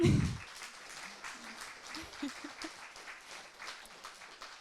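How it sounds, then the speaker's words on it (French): An audience at a lecture by a writer gives a brief round of applause to welcome him. The clapping is soft and distant after a short low thump at the start, with some murmuring mixed in. "Je vais vous demander de l'applaudir, s'il vous plaît."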